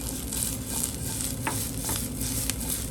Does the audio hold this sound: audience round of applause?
no